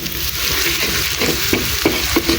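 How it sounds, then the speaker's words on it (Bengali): Garlic and onions fry in hot oil, a steady close sizzle with a few soft stirring scrapes and clicks toward the end; nobody speaks. "আমি এই জায়গায় রসুন আর পেঁয়াজগুলোরে এখন বাজা বাজা করে নিতে আসবে"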